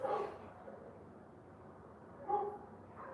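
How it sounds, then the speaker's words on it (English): Dogs barking somewhere in the distance outdoors: two faint, brief bursts of barking over a low background hum, with no one talking. "I hear them dogs now."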